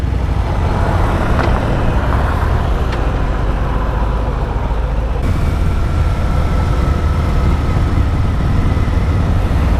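Harley Davidson Softail Deluxe motorcycle cruising smoothly in third gear around town, a steady loud engine drone with wind and road rumble running continuously, no voices.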